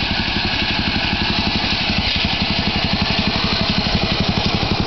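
Agway lawn tractor engine idling, a loud, close, steady rapid chugging pulse with a rough low drone, alone without talk.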